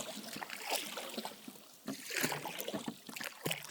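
A paddle pushes a small boat through thick lake grass, giving irregular swishing and rustling strokes with light water splashes, close and fairly quiet.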